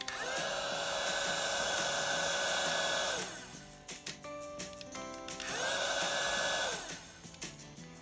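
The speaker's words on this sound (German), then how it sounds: "das ist jetzt der Föhn und wir schalten ihn mal an" A battery-powered Disney Frozen toy hair dryer whirs on with a high, buzzy hum, cuts out briefly with clicks, then whirs again.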